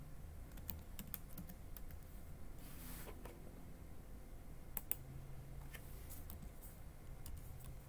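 Quiet, close typing on a computer keyboard while entering commands in an Ubuntu terminal: irregular light key clicks patter throughout over low room hiss, with a few sharper taps.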